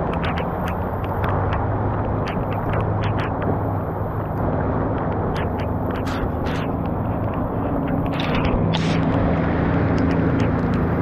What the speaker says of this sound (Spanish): Ahí vienen los carros, vienen cargados.